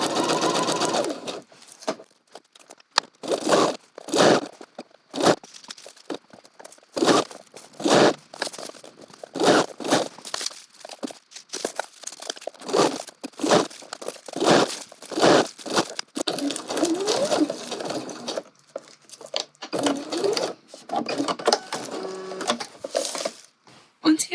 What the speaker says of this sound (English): Press your foot down and carry on stitching along the line that we've marked.